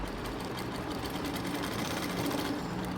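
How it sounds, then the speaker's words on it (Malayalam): Sewing machine stitching a churidhar top, a steady fast mechanical whir with rapid needle ticking that runs continuously and close, alone without talk. "ഇവിടെ ഇങ്ങനെ വെറുതെ ഒരു തയ്യൽ ഇങ്ങനെ ഇട്ട് കൊടുക്കുക"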